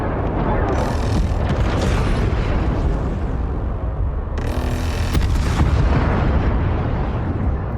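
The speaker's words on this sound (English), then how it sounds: "The mothership is under simulated fire. Hull defense guns are active and engaging targets." Mothership hull defense guns in Homeworld 3 fire as a dense, continuous barrage of loud booming bursts and rumbling blasts that stay heavy throughout, with no pause.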